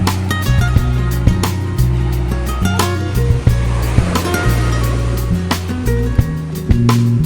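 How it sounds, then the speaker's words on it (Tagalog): Heavy Pacific Ocean surf rolling onto a beach, a continuous loud roar of breaking water with intermittent low thuds and hum, close by and without talk. "Lakas nga ng alon dito kasi Pacific Ocean."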